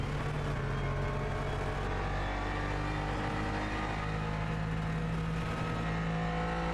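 A GT3 race car engine in the racing game Automobilista 2 drones steadily at a fairly constant pitch, a continuous moderate hum with slight pitch shifts and no talk.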